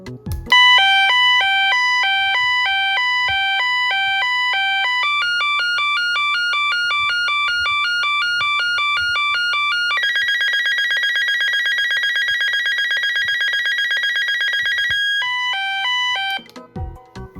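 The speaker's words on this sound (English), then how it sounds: "the siren on this thing is ridiculously loud. It's ear-piercing, and it's also got a very interesting siren." A First Alert SFA1180 weather radio sounds its siren test: a piercing electronic alarm that steps through alternating two-tone beeps, then a faster warbling pattern, then a rapid trilling tone. It is very loud and heard alone.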